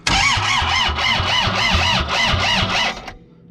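A Thomas 173HL skid steer engine cranks over on a fully charged battery with a loud, rhythmic chugging. The starter churns steadily for about three seconds and then stops abruptly, without the engine catching.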